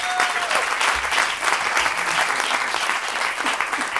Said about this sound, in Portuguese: Agora uma salva de palmas